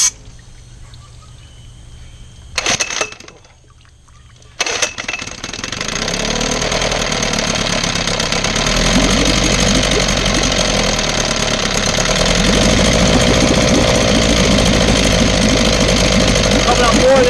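A 1969 Johnson 6HP outboard motor starts after some clanks and then runs loud and steady, a close, buzzing two-stroke drone that builds slightly toward the end.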